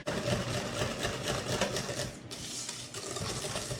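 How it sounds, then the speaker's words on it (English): Kuchen batter, a thin mixture, whisked by hand in a bowl: steady, fast scraping and rattling strokes that run continuously and loudly for about four seconds, with a brief break midway, and no talking. "So you can obviously use a mixer if you want to go ahead and mix this up, or as we're doing here,"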